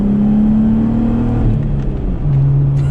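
Loud, close drone of a brand new Jeep Gladiator with a straight-piped exhaust pulling hard after a downshift, engine note climbing steadily with a brief shift midway, heard from inside the soft-top cab.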